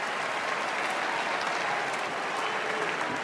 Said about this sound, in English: Yeah, that's worthy of applause